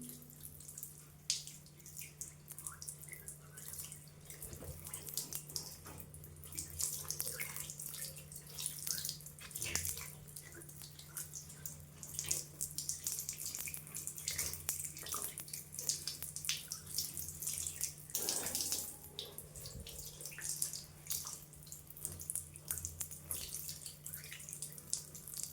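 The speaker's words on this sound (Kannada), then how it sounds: "ಈಗ ನಾನು ವಾಶ್ ಸೊ ನೋಡಿ, ನಾರ್ಮಲ್ ವಾಟರಲ್ಲಿ ವಾಶ್ ಮಾಡ್ಕೊತಾ ಇದ್ದೀನಿ" Running tap water splashes steadily over feet being washed in a home pedicure, with a continuous close rush of water and a low hum beneath.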